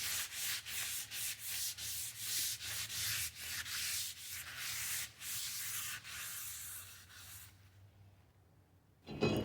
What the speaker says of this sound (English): I'm going to go through with some brake clean and a little towel here and wipe this thing down